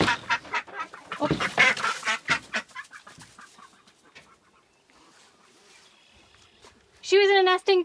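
A duck quacks in a hoop coop kept with chickens, a short loud burst of repeated quacks near the end after people talk close by.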